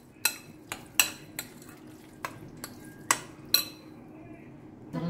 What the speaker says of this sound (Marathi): सो बरें ताका मिक्स करून घेया.